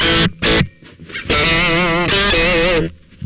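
A heavily overdriven guitar through a Behringer PB100 preamp booster with gain fully up rings out in short bursts followed by sustained buzzing chords, thick and saturated with gain.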